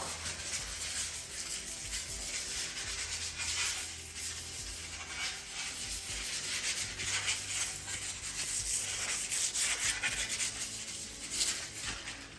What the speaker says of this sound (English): So first thing, a little bit of 600 grit sandpaper, give my tools a bit of a clean.